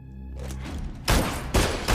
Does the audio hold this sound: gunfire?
yes